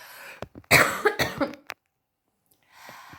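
A close, harsh fit of coughing, several rapid hacks in a row, then a short silence and faint breathy noise.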